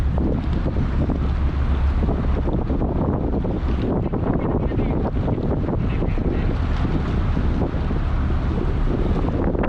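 A ferry manoeuvring to dock at Merak port against a strong current gives a steady, loud rumble of engine and water, with heavy wind buffeting the microphone throughout and no talk.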